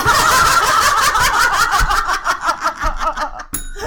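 A desk bell is punched once near the end, a sharp ring after a stretch of close, lively laughter in a podcast studio.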